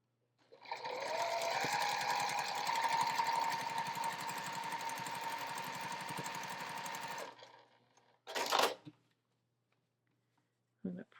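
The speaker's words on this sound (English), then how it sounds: "I'm going to put the next 9 patch on, the next square in the row, and sew." A sewing machine stitches quilt blocks together, joining a nine-patch square to the next in a jelly roll quilt, running steadily and loud for about seven seconds before a short rustle and a brief clack.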